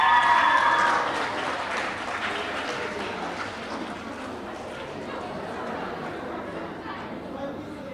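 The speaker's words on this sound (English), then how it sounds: "Excellent round of applause for our first place award receivers, guys." A primary school graduation audience breaks into applause for first-place award winners, loudest in the opening second and then settling into steady, sustained clapping with background chatter.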